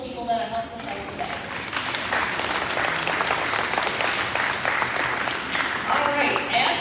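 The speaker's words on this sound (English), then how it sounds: "So a big round of applause to all of those people that have helped us out today." Steady audience applause fills a school ceremony for elementary spotlight students, many hands clapping continuously at close range, with a few voices and cheers mixed in beneath the clapping.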